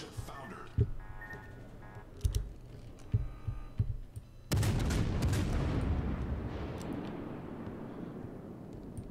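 Warship guns firing in the naval game World of Warships, a string of separate booming shots over a low engine hum, then a heavier sustained roar of salvos and impacts that slowly fades.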